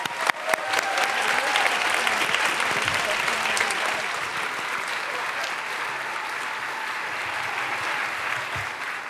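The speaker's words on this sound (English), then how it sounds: "Please join me in a final round of applause for Ophelia Dahl." Sustained applause from a large audience at a Radcliffe Day 2023 event honoring Ophelia Dahl, dense and steady throughout with a few sharp claps at the start.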